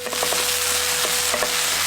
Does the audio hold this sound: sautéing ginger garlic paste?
yes